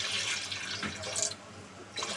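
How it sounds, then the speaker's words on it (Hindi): Water pours steadily into a cooking pot for khichri for a couple of seconds, a close, continuous splashing stream with no talk. "और पानी डाल दिया है मैंने इसमें ताकि पानी की कमी ना हो"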